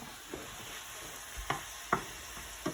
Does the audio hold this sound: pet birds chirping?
no